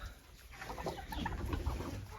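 Young chicks cluck and chirp softly nearby, a scattered stream of small calls over steady background noise.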